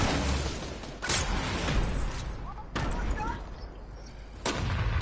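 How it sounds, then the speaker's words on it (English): Three loud, sharp gunshot blasts ring out at roughly even intervals, each followed by a decaying echo, with voices audible between them. "Gunshot!"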